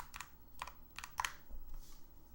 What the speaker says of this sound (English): You can hear my furious typing.